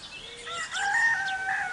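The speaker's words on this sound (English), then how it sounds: "It's a little white chicken. And a big white chicken." Chickens, a little white one and a big white one, make short clucking and crowing calls outdoors, moderately loud and close.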